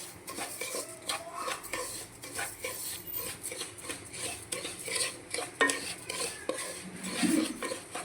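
Wheat semolina frying in ghee in a metal pan for a sweet kesari, with a spoon scraping and clinking against the pot in steady irregular stirring strokes, close and moderately loud, no voices.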